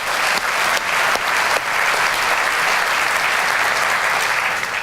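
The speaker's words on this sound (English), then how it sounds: "That deserves a big round of applause." A big round of applause fills a hotel brand's general assembly hall, a loud, thick and steady roar of many clapping hands that holds evenly throughout with no speech.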